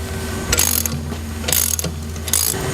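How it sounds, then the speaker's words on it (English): A hand ratchet tightens shock bolts during a Burly Brand slammer kit install, three bursts of rapid close clicking separated by short pauses over a low background hum. "Lower the jack to install the bottom bolts."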